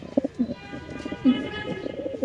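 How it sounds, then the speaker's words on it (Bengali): Yellow Lahori pigeons at a large pigeon farm coo in soft, repeated low bursts, fairly close, with several birds overlapping and a faint voice in the background. "এখানে আছে একটা হলুদ লাহোরি কবুতর"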